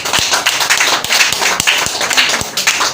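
Clapping at a Peaceful Streams Foundation Nigeria event hosting NCSC and UN delegates, with a few distinct hand claps over a busier patter from a small crowd, close and fairly loud.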